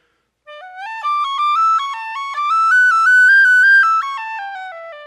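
A tin whistle plays a single unbroken run of notes on one breath, stepping up in pitch and then back down, clear and close with no talk.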